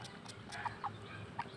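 Soft, quiet clucks from a chicken, a few short notes spaced irregularly over a faint background hum.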